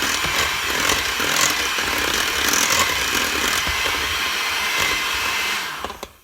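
An electric hand mixer beats pumpkin pecan coffee cake batter with a loud, steady whirring drone that runs without a break, then winds down and cuts off at the very end.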